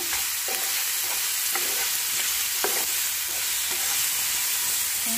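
Sabudana khichdi stirred in a pan, a steady sizzle with a spoon scraping through it in a few separate strokes, close and even, with no voices.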